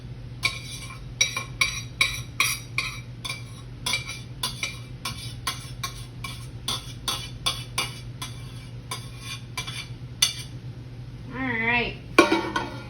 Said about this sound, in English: Make sure you're scraping that pan so you're getting all your vegetables.